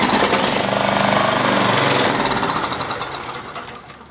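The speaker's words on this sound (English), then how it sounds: "take the choke off. Here. Let's see. Let's see if it'll start up now." A small engine cold starts after the choke is taken off, catching and rattling into a fast, loud, pulsing run that fades slightly over a few seconds, close by with no talk.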